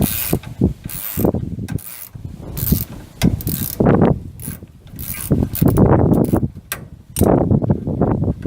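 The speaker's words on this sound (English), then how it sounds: "I've got 2 wrenches, one on the front to hold it, to turn it, and one on the back to hold it" Two wrenches working against each other on the bolts of a Baer 6P brake caliper bracket, producing repeated close metallic scraping, ratcheting and grinding bursts in irregular rhythm with brief pauses between pulls.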